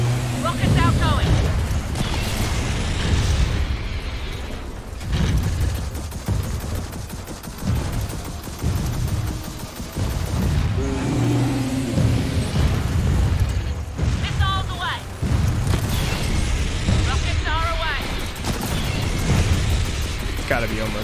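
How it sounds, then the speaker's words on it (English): Rocket explosions and gunfire during a Gears of War 4 battle, with repeated booms and bursts under continuous loud combat noise and shouting voices throughout. "Rockets outgoing!"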